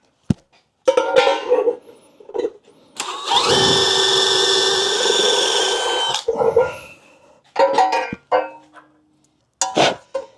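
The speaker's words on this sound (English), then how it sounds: "let me drill this out now" A drill bores into a motorcycle oil tank for a few seconds in a loud, steady whine, framed by close clicks, clunks and handling noises before and after.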